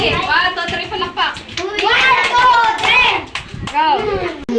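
A group of children clap together at a kids' game, bursts of hand claps mixed with loud overlapping voices and an adult talking nearby.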